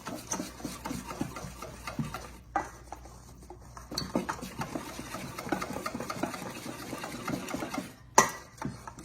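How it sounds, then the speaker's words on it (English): A whisk clatters rapidly against a bowl while mixing corn fritter batter, a busy close scraping and ticking rhythm with brief pauses and a sharper knock near the end. "I'm going to use my whisk because that's going to be a whole lot easier to bring that together."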